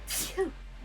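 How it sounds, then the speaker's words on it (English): A single short sneeze bursts out during a card game stream, a quick breathy hiss followed by a brief voiced catch, fairly faint against a steady low background hum. "Bless you."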